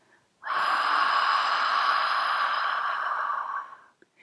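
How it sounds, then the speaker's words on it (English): A steady, breathy open-mouthed exhale like fogging a mirror, a soft hissing "haaa" held for about three seconds after a brief quiet start, then fading out. "as you exhale out of the mouth, make a sound as though you're fogging up a mirror"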